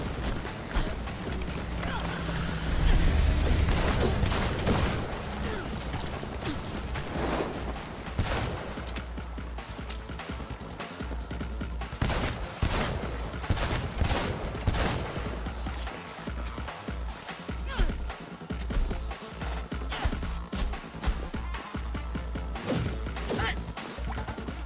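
Gunfire from the video game Cyberpunk 2077: repeated sharp shots and impacts scattered through a steady game soundscape, with a voice talking over parts of it.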